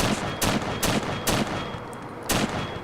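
SKS rifle firing 7.62 rounds in Fallout 4, heard as five loud, sharp shots at uneven intervals, each with a short tail, alone with no voices.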